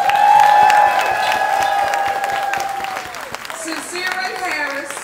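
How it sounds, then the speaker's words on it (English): A crowd at a Philadelphia mayoral victory speech breaks into loud applause and cheering, mixed with whoops, as a voice speaks over the noise and the clapping gradually thins. "Give him a round of applause."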